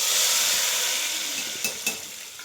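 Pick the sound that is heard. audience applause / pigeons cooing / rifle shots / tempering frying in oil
tempering frying in oil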